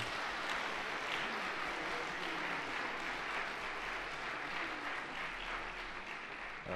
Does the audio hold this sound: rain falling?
no